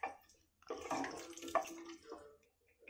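Water pours into a pressure cooker holding aloo matar, a splashing, gurgling stream in uneven bursts that starts and stops a few times, close and fairly soft.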